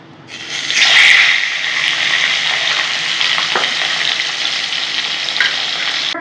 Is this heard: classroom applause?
no